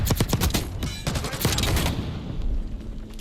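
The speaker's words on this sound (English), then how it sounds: "On to the Jackal, which is the try-hard SMG of choice." Jackal submachine gun in Black Ops 6, loud rapid bursts of automatic fire in close succession, with sharp cracks and booming echoes between the volleys.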